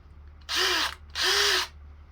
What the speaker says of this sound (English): we're gonna go ahead and drill a little hole